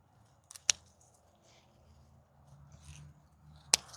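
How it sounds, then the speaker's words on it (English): Two crisp snipping cuts of scissors through basil stems, close and sharp, about three seconds apart, with soft rustling in between. "I'm just using these scissors to get the job done real quick"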